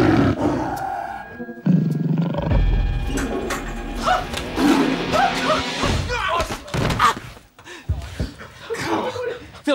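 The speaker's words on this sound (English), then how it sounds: "Phil, there is a tiger in the bathroom" A tiger roars in a movie scene, with loud roaring and growling mixed with thumps and people talking and shouting in the scene.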